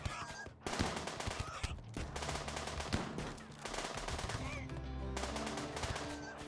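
Rapid gunfire from a RimWorld colony battle, dense bursts of shots layered over a continuous game soundtrack, loud and sustained with brief dips.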